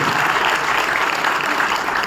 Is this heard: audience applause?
yes